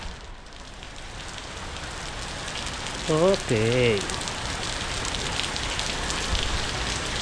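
Steady all-day rain in Arkansas on Valentine's Day patters continuously on surfaces close by, a dense even hiss throughout, with a person briefly speaking a word over it partway through.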